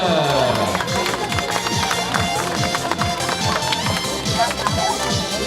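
A crowd at a youth triathlon prize ceremony applauds the girls on the podium, sustained clapping filling the space over an announcer's amplified voice and loud music.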